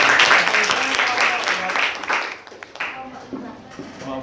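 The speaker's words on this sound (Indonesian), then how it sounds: "Tepuk tangan untuk Mbak Faiza." Applause in a classroom during a physics lesson, a burst of clapping from students that starts loud and fades over a few seconds, with voices murmuring under it.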